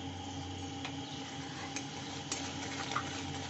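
Spice paste with Kashmiri chilli powder stir-frying in a pan, a steady soft sizzle with occasional light scraping ticks of a spatula, close and fairly quiet, no talking.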